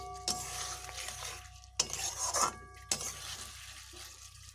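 Fried taro (kochur mukhi) is stirred in a pan with a metal spoon, giving three distinct scraping, clattering bursts over a faint sizzle, close and fairly quiet, with no talking.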